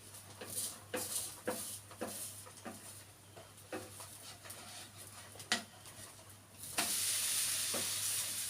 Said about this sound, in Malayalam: ചട്ടിയൊന്ന് വെച്ച് നല്ലോണം മൊരിയട്ടെ ദോശ